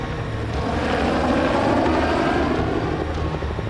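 A helicopter flies at night, its engine and rotor making a strong, continuous roar that swells slightly toward the middle and holds steady without pause.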